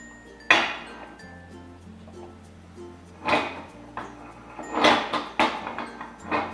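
A metal appam pan is set down on a kitchen stove to heat, giving several separate clanks and clinks spread over a few seconds, each a crisp knock that rings out briefly over a quiet background.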